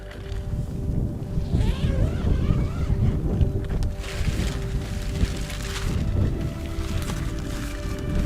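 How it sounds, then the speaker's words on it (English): Strong wind gusting outside a tent at a motorcycle camp, a rough blustery roar with buffeting rumble on the microphone that swells and eases throughout, fairly loud and alone without talk. "It's not so cold, but this wind is very annoying."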